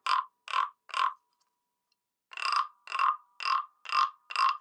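Frog-shaped percussion instrument, held by its back legs, gives eight short rasping croaks: three quick strokes, a pause, then five more in an even rhythm, close and alone.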